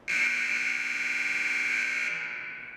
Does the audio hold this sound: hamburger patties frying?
no